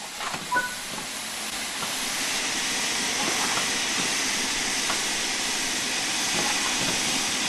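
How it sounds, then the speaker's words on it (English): Loud, steady steam hiss from the opened cylinder cocks of a steam locomotive in Train Simulator 5, building after a brief quieter start and then holding continuous and broad for several seconds, with no talk over it. "you'll need to open the cylinder cocks to remove any water"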